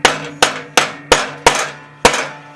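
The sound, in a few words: rubber mallet tapping a mower pulley shaft into bearing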